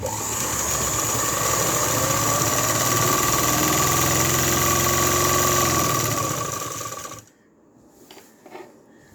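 An electric sewing machine runs a continuous fast stitching drone while sewing the last seam of a salwar, steady and close for about seven seconds before stopping abruptly, followed by a few faint clicks and handling sounds.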